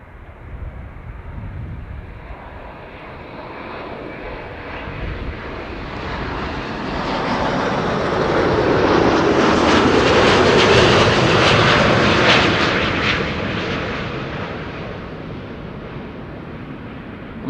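A Delta Airlines jet descends toward runway 06 Kaagbaan at Amsterdam Schiphol on a sunny day. Its engine roar swells from moderate to loud over about ten seconds as it passes close, then fades slightly. No voices are heard.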